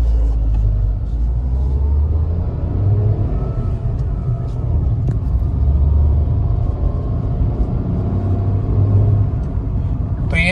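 A manual Tata Punch Adventure pulls away from a standstill in first gear, its engine rumble rising steadily under continuous low road and cabin noise, heard from inside the car.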